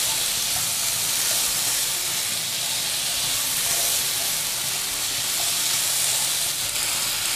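Green beans with salted preserved vegetables stir-fried in a pan, giving a steady, continuous sizzling hiss throughout with faint scraping of stirring underneath, close and alone with no talk.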